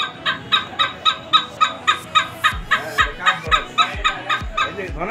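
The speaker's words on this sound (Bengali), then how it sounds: "দুর্বল হয়ে গেছে পাখিগুলো দেখো কিরকম আওয়াজ করে" Weakened birds at a zoo give a run of repeated, evenly spaced calls, close and fairly loud, each a short gobbling or chuckling burst, with faint sounds in the background.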